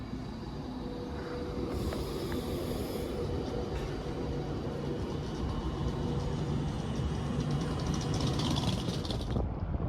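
Class 390 Pendolino 390010 Cumbrian Spirit, a Glasgow Central to London Euston service, rolls through Wigan North Western station with a steady loud rumble of wheels and carriages, brake hiss and a bright high whine building toward the end.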